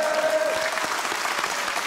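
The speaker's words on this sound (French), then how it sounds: "On peut vous applaudir, ce sont les deux meilleurs ce soir." A studio audience on a Belgian television quiz show applauds contestants with a steady, dense burst of clapping that fills the whole short stretch at an even level.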